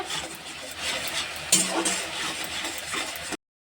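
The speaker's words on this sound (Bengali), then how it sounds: "নেড়ে নেব মশলাটা ভালো করে" Spice masala being stirred and fried in a pan for a vegetarian pea dal with green banana, with a soft, steady sizzle and scraping strokes close by, one brief louder scrape near the middle.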